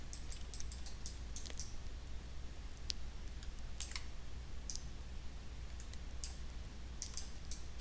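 Sharp, quiet computer mouse clicks come in quick irregular bursts and pairs during 3D modeling work, close and isolated over faint background hiss.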